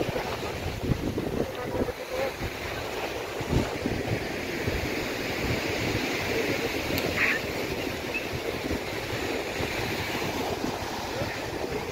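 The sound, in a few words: rough sea waves after Cyclone Michaung at Marina Beach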